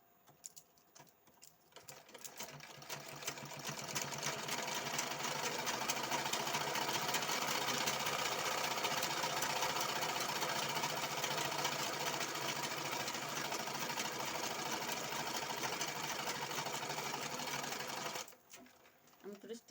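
A sewing machine stitches a patiala pant in one long continuous run, a fast steady whir-and-tick that starts after a quiet moment and stops abruptly near the end; close and clear.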